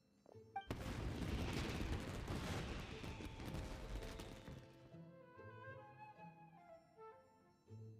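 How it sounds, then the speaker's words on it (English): Fireworks explode in the Genshin Impact video game, a dense loud burst of crackling booms that fades over several seconds, with game music continuing underneath. "this is turning into a bit of a fireworks display"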